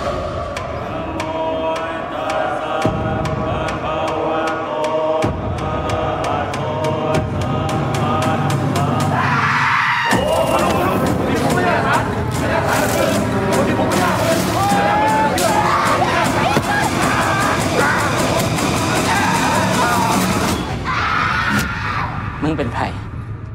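Screaming and yelling from a played film excerpt: loud, chaotic crowd cries and whoops build into a sustained roaring clamor, with voices and music mixed in.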